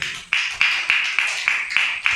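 A congregation claps for the Lord at a Tamil church sermon, with sharp, evenly spaced claps in a steady rhythm, roughly every third of a second, close and fairly loud.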